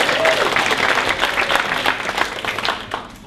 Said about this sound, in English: round of applause for Steve Parry